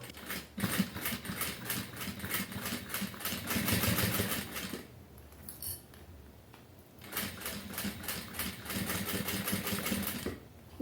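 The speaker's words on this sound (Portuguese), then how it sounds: "Eu vou começar a costura aqui próximo da emenda do viés." Sewing machine stitching bias binding near the joint of a baby document holder, fitted with a size 18 needle: loud, close, steady whirring runs in two long bursts with a short pause between.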